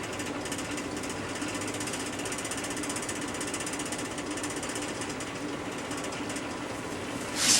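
Woodturning tool pressed against a spinning bench grinder for sharpening: a steady, dense grinding whir with a continuous buzzing texture that holds evenly throughout, ending with a brief louder scrape.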